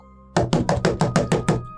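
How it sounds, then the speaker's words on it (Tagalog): Loud knocking on a door: eight sharp, evenly spaced raps in quick succession, close and forceful against a quiet background. "Biglang may malakas na katok sa pinto."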